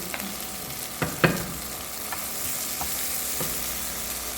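Chopped garlic sizzles steadily in butter in a pan, with a few soft scraping stirs and small taps from a utensil, no talking.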